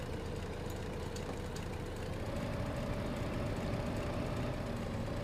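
A tractor engine idles in the video game Farming Simulator 15, a continuous low rumbling drone with a steady tone that rises slightly partway through, heard alone without talk.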